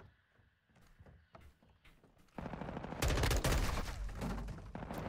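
Rapid automatic gunfire in the video game Modern Warfare 2 starts after quieter scattered shots and grows into loud, dense bursts that fill the rest of the moment.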